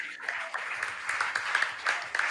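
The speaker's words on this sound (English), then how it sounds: "Give them a round of applause," Scattered clapping from a small crowd at a school quiz competition, light and uneven, with a voice briefly mixed in.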